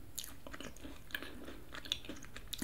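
A Crumbl Easter-themed cookie is chewed close to the microphone, soft crunchy bites and moist chewing repeating in a quiet setting with no talking.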